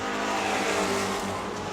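Racing trucks roar around New Smyrna Speedway in the closing laps with a loud, steady engine drone. The pitch shifts slightly as they pass, and there is a hint of tire noise.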